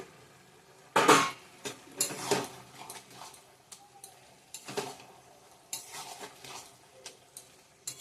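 Prawns are tipped into a frying pan and stirred, giving a loud scrape and clatter, then softer intermittent spatula knocks over a faint sizzle, close by with no talking.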